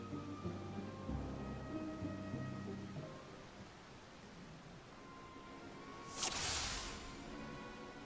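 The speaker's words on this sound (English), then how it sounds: "It's gonna be kind of hard when it's raining like this." Steady rain in the video game Final Fantasy XIV patters softly throughout with a low rumble, then a sudden louder wash of noise swells near the end; no one speaks.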